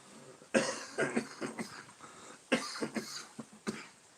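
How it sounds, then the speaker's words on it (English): Several short, harsh pollen-allergy coughs come in two bursts, close and fairly quiet, with brief pauses between each hack. "I know where this cough comes from"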